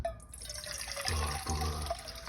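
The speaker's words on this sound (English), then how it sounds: "we're going to take some warm water" Water running and splashing into a bowl close by, a steady gurgling pour with small drips, no talking.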